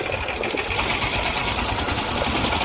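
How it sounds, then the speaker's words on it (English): Honda GX390 generator engine fitted to a dune buggy, running with a steady rapid chugging rumble close by, unbroken for the whole stretch. "This is the first time I'm jump starting an engine."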